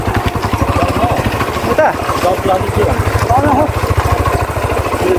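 A motorbike engine runs steadily in a village, its rapid, even chugging pulses continuing throughout while people talk nearby over the noise.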